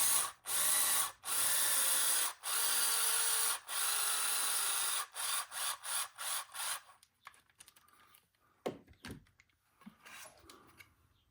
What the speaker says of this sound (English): Use the drill.